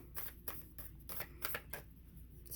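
Large oracle cards shuffled by hand, making a series of close, papery riffles and slaps in uneven bursts with short pauses between them.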